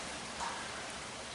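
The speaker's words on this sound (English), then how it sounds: "2 days of rain now" Steady rain falling outside a home garage, an even soft hiss of drops without any voices.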